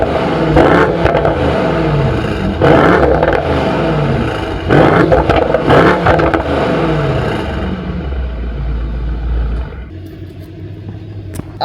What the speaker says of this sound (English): what kind of video would it be if I didn't let you hear the exhaust?